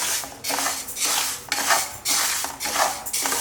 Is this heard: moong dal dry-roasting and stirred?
yes